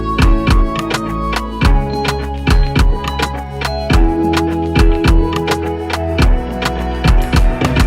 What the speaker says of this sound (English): Then we add in our drums together with the melody. Sounds like this.